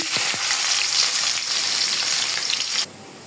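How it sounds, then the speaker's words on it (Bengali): Onions hit hot oil in a kadai (wok) while cooking a chicken roast, giving a loud, dense, continuous sizzle with a few faint clinks at the start, then dropping away sharply near the end. "আমি এখন কড়াইতে পেঁয়াজটা দিয়ে দিচ্ছি"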